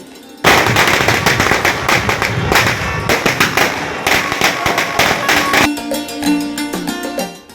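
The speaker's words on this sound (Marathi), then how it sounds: "ढोल ताशांच्या गजरात आणि फटाक्यांच्या आतिषबाजीमध्ये भव्य स्वागत करण्यात आले" Firecrackers burst in a dense, loud crackling barrage at a Ganesh festival procession in Satpur, nearly continuous for several seconds before thinning into scattered pops over a steady drumming and music bed.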